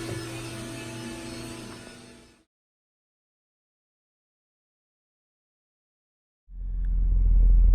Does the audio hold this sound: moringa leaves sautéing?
no